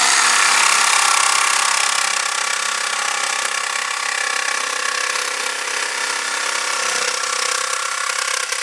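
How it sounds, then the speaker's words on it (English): A jigsaw cuts curves into wood for tabletop terrain road pieces, giving a loud, steady motor buzz that runs unbroken through the whole stretch with only slight dips in pitch as the blade works. "Going to the jigsaw for the curves."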